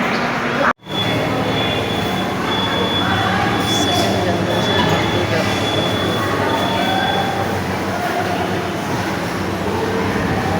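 A moving train rumbles loudly and continuously, with rattling carriages and a thin squeal of wheels, voices faintly mixed into the din, inside the Visvesvaraya Industrial and Technological Museum in Bengaluru.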